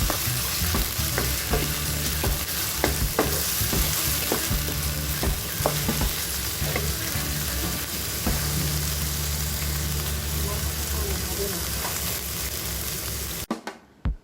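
Marinated meat frying in a hot pan, a steady sizzle with repeated stirring and scraping clicks throughout, close and fairly loud, ending abruptly.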